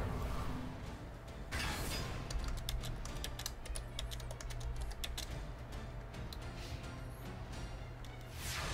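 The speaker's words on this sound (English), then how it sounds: "Ugh, I fucking hate typing." Fast typing on a computer keyboard, a dense run of close, crisp key clicks that starts after a short pause and continues steadily throughout.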